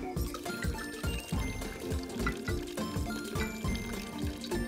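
Water poured into a container for a homemade lava lamp experiment, a continuous burbling fill with repeated glugs, close and fairly loud throughout.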